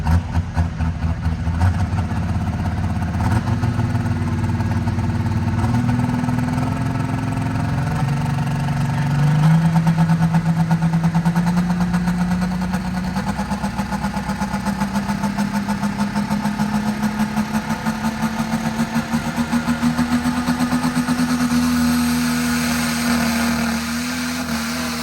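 Loud, sustained roar of a 2.6 Charger engine on a 3.0 truck at an outlaw-class truck pull at a county fairground, rising steadily in pitch as it labors under load for the whole stretch, with no talk over it.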